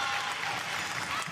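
Volleyball crowd at a Kentucky high school match between Lexington Catholic and Adair County, cheering and applauding after a successful left side attack; a steady, dense roar of applause fills the whole moment without a break.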